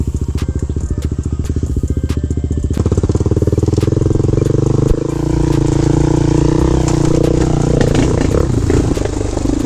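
A Honda 400ex ATV engine runs steadily at a low, rough idle, a close, loud, continuous putter with a slight shift in pitch partway through, while someone speaks over it.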